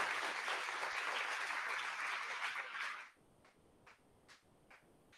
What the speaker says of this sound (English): Another round of applause for all of our employees tonight.